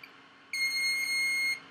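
A flight-controller beeper on a tricopter gives one sharp, steady high-pitched tone lasting about a second after the battery is plugged in, close and alone over faint hum.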